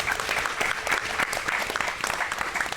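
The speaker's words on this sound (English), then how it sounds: "Let's give them a round of applause" A room applauds sponsors at a press freedom event, steady dense clapping filling the whole stretch at a close, even level with no pauses.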